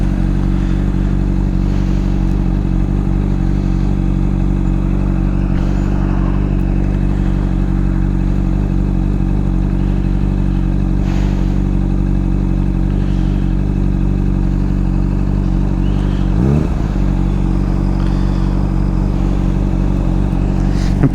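Honda CBR 600 sport motorcycle engine idling and running steadily with a loud, close, continuous mechanical drone, a brief shift in pitch near the end, no talking.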